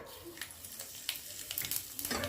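Dry red chilies and whole cumin hit hot oil in a wok, giving a soft, steady sizzle with faint crackles and pops, quiet and close.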